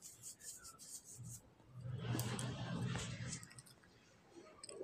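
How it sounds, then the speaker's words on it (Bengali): A spoon scrapes and rubs through shutki bhuna, a dried fish curry, in a cooking pot, with soft rasping strokes that grow louder and denser midway before easing off again. "আবার একটু নেড়ে মিক্স করে দিচ্ছি।"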